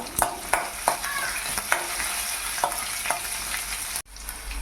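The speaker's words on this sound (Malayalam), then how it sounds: "ഇഞ്ചി, വെളുത്തുള്ളിയും കൂടി ചേർത്ത് ഒന്ന് ഇളക്കി കൊടുക്കുക." Ginger, garlic, curry leaves and dried red chillies sizzle in hot oil in a pan while a spoon stirs them, giving a steady close frying hiss with regular scraping strokes and a brief pause near the end.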